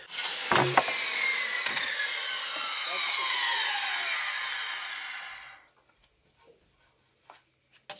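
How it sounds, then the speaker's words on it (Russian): A power saw cutting lumber for a wall panel of a SIP house, with a loud sustained whining cut for about five seconds that then stops, followed by a few faint knocks. "Вот так происходит напил а, пиломатериала."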